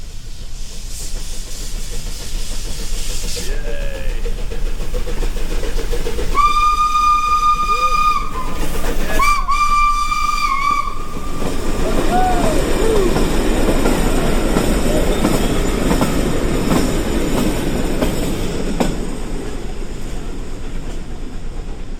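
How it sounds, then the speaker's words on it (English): A Portuguese steam train running along the tracks in Portugal sounds two loud whistle blasts, then rumbles and clatters past close by, with steady hissing and rolling wheel noise that lasts to the end. "we're waiting for a Portuguese steam train to come along the tracks"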